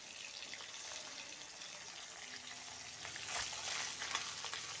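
Singhi fish frying in hot oil, a steady broadband sizzle with sharper sputtering bursts toward the end, heard close and alone.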